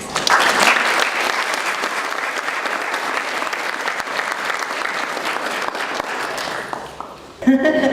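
Audience applause welcoming a speaker to the stage at a talk on protecting children with disability, a steady loud wash of clapping for about seven seconds before it fades and a voice begins.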